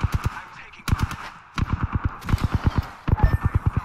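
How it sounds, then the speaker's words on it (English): Rapid bursts of gunfire from a shooter video game crackle close and loud, firing in short rhythmic volleys of four to six shots separated by brief pauses. "I'm taking fire."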